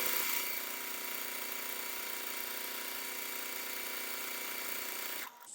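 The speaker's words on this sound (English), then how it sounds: "I'm going to sew this onto this side and then we'll come back and sew the other one" A sewing machine stitches quilt block pieces together in a continuous, even mechanical whir that runs steadily for about five seconds, then stops abruptly.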